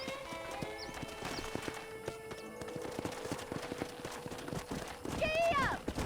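A horse gallops in Red Dead Redemption, rapid clip-clop hoofbeats running throughout with a whinny near the end and voices talking over them.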